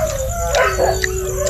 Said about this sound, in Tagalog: Yan talaga pag maraming aso.